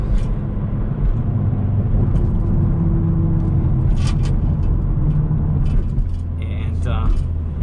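Engine of a facelifted 2021 Hyundai Veloster N on a night drive, a steady low drone from inside the cabin with a few brief clicks and rattles, and a person talking over it.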